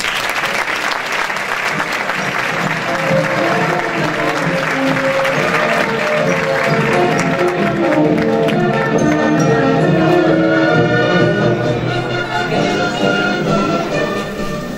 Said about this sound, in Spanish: Con un sincero aplauso.